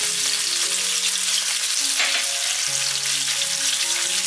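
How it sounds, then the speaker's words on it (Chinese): Close, vigorous sizzling and crackling of ginger and garlic stir-frying in hot oil, steady throughout, with light music audible in the background. "煎好了之后，把姜蒜放进来炒香"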